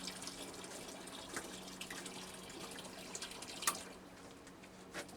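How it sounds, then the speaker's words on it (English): RO water trickles steadily into a nearly full container, faint and close, with a few light drips and splashes over the running flow. "So you can see it's filling up with RO water and it's nearly full now."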